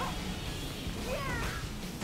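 Cat meow inside the Nintendo game Bowser's Fury, part of Super Mario 3D World, rising briefly over a busy game soundtrack and lasting about two seconds.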